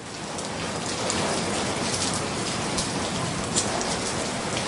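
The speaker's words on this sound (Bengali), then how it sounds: "বৃষ্টির ঝাঁটটা এবার আরো বাড়ল।" Heavy rain in a Bengali audio drama, a dense, loud, continuous downpour hiss with pattering drops on surfaces, steady throughout with no voices.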